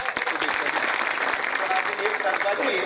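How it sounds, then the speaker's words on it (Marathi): Audience at a Marathi kirtan applauding for a birthday, steady dense clapping close by throughout, with a voice talking over it. "त्यांचा वाढदिवस एकदा टाळ्या वाजवताना"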